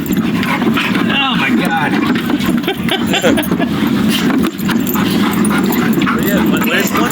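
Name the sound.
dogs barking and whimpering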